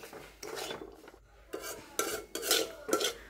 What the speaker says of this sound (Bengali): এবার ভেজে রাখা সুজিটা আর ড্রাই ফ্রুটসগুলো দিয়ে দিচ্ছি। খুব ভালো করে এবার একটু নাড়িয়ে নিচ্ছি।